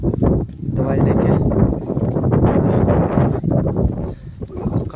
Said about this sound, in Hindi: काफ़ी तेज़ हवा हो रही है यहाँ